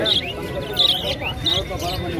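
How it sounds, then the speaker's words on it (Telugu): Small birds chirp in short repeated tweets over a noisy, busy Sunday street market background in Erragadda, Hyderabad, with faint voices. "అటు పక్కన కూడా ఉన్నాయి పక్షులు. అక్కడ కూడా ఉన్నాయి."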